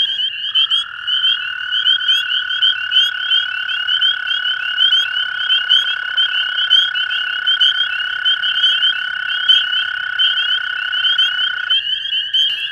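A dense chorus of spring peepers and American toads calling together, a steady high trill with many overlapping peeps, loud and continuous without talk.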